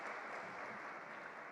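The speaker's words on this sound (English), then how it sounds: "So big applause for the opening speeches" Faint, continuous audience clapping at the SFK 2025 event, following the opening speeches, heard from a distance as an even wash of applause with no speech over it.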